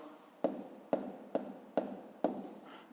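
Pen strokes on paper as a maths answer is written down, five separate scratchy strokes in a steady rhythm, close and fairly quiet.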